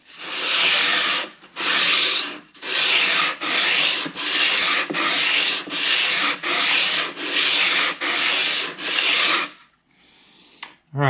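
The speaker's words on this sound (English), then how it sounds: "I'm starting with the 100 grit sandpaper." A Richlite fretboard is sanded by hand with 100 grit sandpaper in about a dozen steady, evenly spaced gritty rasping strokes, loud and close, alone with no talk.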